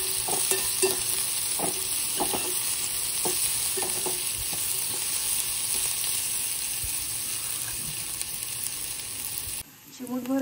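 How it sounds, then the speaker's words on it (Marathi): Finely chopped onion frying in a pan until golden for hara bhara kebab, a steady close sizzle broken by repeated scrapes and stirs of a spatula, with a sharp clatter near the end. "बारीक कापलेला कांदा आहे तो सुद्धा त्यामध्ये मी भाजून घेते। छान असा गोल्डन होईपर्यंत आपल्याला परतून घ्यायचं।"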